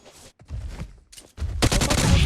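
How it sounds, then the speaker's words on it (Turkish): A grenade lands during a competitive first-person shooter tournament match, with sharp bursts of game gunfire followed by a loud, dense blast of combat noise that fills the last second. "Bomba attım bomba attım bomba attım."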